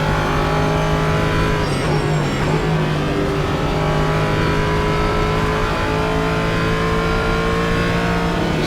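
An LMP3 prototype race car engine drones loud and close at Road Atlanta in Assetto Corsa, holding a steady high whine with slight pitch shifts under throttle and no break across the lap.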